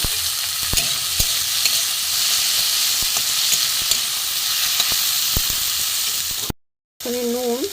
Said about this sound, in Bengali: এটা আদা একটু ভালো করে ভেজে নিই